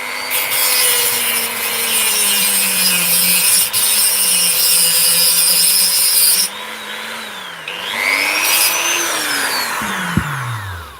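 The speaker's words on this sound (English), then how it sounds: "we're using the Dremel" A Dremel rotary tool cuts loudly and close with a high, steady whine whose pitch sags and wavers under load, breaks off partway, then spins back up briefly.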